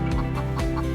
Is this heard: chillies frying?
no